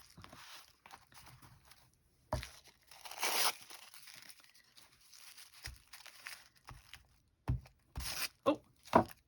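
Paper is torn by hand while a vintage journal is being made: sporadic ripping and crinkling sounds close up, with one longer tear and a cluster of short, sharp rips toward the end, amid quiet handling noises.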